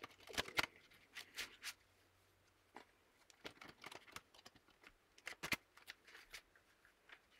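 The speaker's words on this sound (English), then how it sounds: "Come on, one more ruffle shuffle." Tarot cards get ruffle shuffled, giving faint, scattered papery riffles and taps in a quiet room.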